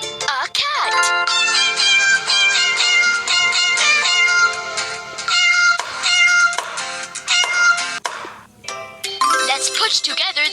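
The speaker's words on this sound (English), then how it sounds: "A cat." Cartoon cat meows ring out repeatedly in a kids' cat and dino puzzle video game, bright and close, layered with chimes and playful tinkling music throughout.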